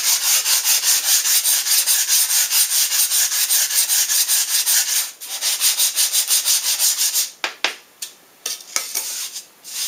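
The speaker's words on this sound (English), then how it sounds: "deburr the edges a little bit." Edges of a metal forge piece being deburred with a steady, loud abrasive rubbing that runs continuously, then breaks into shorter strokes and pauses near the end, with no talking.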